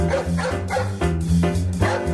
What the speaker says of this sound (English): Cue the dog.